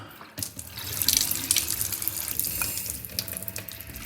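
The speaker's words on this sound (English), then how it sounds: "Then I'm just going to put in some cold water," Cold water runs from a kitchen tap into a bowl of porridge oats, a steady splashing gush starting abruptly and continuing close and alone for a few seconds.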